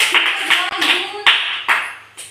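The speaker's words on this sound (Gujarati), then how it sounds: "એ ભાઈ તું તાળી પાડે ચાલ આ બધું ગામ કરી નાખો" Several loud, sharp hand claps ring out close by in an uneven rhythm, with people talking and calling out in between.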